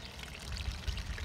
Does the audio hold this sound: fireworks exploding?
no